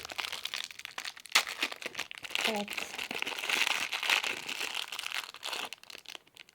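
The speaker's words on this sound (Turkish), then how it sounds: "Evet şimdi poşetlerimizi açalım arkadaşlar. İlk şu poşeti açacağım." Plastic bags from L.O.L. Surprise Confetti Pop dolls crinkle and tear as they are opened up close, with irregular rustling bursts and a sharp rip, while someone speaks briefly.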